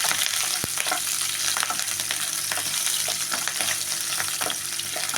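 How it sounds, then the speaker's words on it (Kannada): Lentils, garlic and green chillies frying in oil, a steady crackling sizzle with scattered pops and occasional spoon stirring, moderately close and continuous. "ಬೆಳ್ಳುಳ್ಳಿ ಹಸಿಮೆಣಸಿನ್ಕಾಯಿ ಎರಡೂ ಹಾಕ್ಬಿಟ್ಟು ನಾವು ಅದ್ರ ಜೊತೆಗೆ ಸ್ವಲ್ಪ ಫ್ರೈ ಮಾಡೋಣ"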